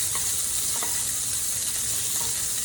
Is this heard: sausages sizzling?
yes